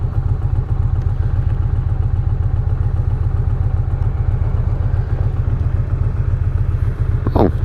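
Victory Cross Country motorcycle ridden through city traffic, its engine a steady, loud, throbbing low rumble that holds unbroken throughout, with a brief faint higher-pitched sound right at the end.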